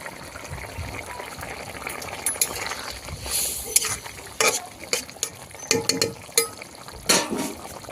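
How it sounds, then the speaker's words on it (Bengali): Potatoes in a chicken curry being stirred in a pot, with a low bubbling simmer and a series of spoon scrapes and clanks against the pot toward the end, heard up close. "একটু নাড়িয়ে নিলাম।"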